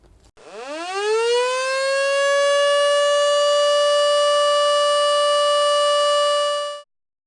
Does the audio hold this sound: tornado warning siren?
yes